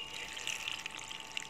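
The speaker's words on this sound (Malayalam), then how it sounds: "കുറച്ച് വെള്ളം ഒഴിച്ച് കൊടുക്കണം" Water is poured into a pressure cooker holding lentils and seasonings, a brief, faint and steady splashing stream.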